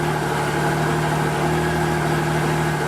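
A 2016 Triumph Trophy SE motorcycle engine idling, with a loud, steady, even hum running unbroken throughout and no talking.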